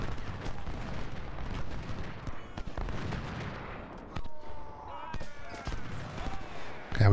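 Infantry volley in Ultimate General: Civil War, a ragged series of musket shots and booms cracking out over several seconds, mixed with battle noise and a voice talking over it.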